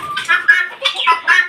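A Sonali chicken clucks at close range in a quick series of short, bright, repeated calls.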